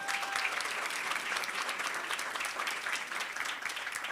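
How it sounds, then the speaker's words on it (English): Workshop attendees applaud in a sustained, even round of clapping that fills the room from start to finish, with no voices on top. "I think that deserves a round of applause."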